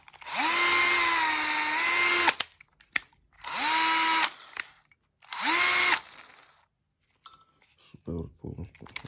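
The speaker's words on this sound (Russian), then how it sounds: "аккумуляторный шуруповерт Bosch Professional" A Bosch Professional GSR cordless drill-driver spinning up in three bursts of about two seconds each, a loud close whine that rises and holds steady before cutting off, with a few clicks afterward.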